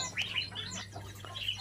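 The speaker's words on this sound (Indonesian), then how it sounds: "burung kutilang emas gemuk ya" Golden kutilang bulbuls chirp in an aviary, bright overlapping calls and tweets close by over a steady low hum.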